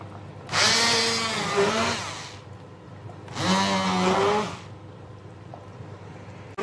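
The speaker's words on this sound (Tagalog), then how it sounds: "So, ito yung blender na gagamitin ko." A blender motor whirs loudly in two bursts of about two seconds each blending cooked soup, its pitch rising and wavering, with a short pause between them.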